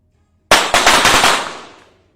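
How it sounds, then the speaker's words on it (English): Pistols fire in a 25 m shooting final at the 2022 World Cup. A sharp, loud volley of about five rapid shots, overlapping in quick succession, rings out and then decays over roughly a second and a half. "then they have to lower their pistols, then raise them again to make their shots"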